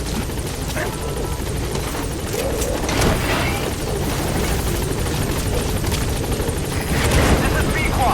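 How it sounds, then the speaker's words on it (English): Support helicopter in Metal Gear Solid 5 arriving, a steady rotor drone that swells and holds loud throughout, with gunfire-like crackle mixed in and voices talking over it. "Support helicopter has arrived."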